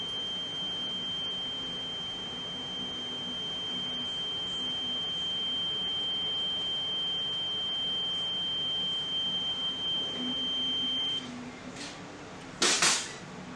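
Oil mist detector head sounding a steady high-pitched electronic tone alarm during a smoke gas test, continuous for about eleven seconds before cutting off, followed by a few clicks and a brief sharp burst.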